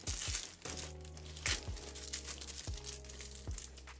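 Plastic wrapping crumpled off a Nine West tote, heard as close, crackly crinkling in repeated bursts, with low thumps from handling the bag and no talking.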